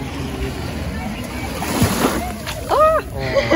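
Sea water at the beach in Alanya sloshing and splashing near the shore in soft, uneven surges, with someone speaking and exclaiming over it.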